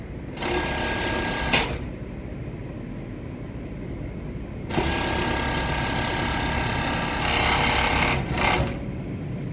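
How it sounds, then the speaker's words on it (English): A sewing machine stitches the inseam of loose night-wear pants, a loud, close, continuous mechanical whir broken by brief pauses and changes in speed, with no voices over it. "Go ahead and join the inseam."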